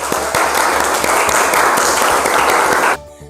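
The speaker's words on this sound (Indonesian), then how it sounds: "Beri aplaus untuk SMK Negeri 3 Samarinda." A school class at SMK Negeri 3 Samarinda applauds, a dense, loud burst of clapping lasting about three seconds and then stopping abruptly.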